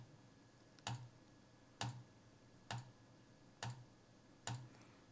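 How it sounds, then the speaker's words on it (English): Computer mouse being clicked, five crisp, close clicks at an even pace of roughly one per second against a quiet background hiss. "if you can hear me clicking the mouse"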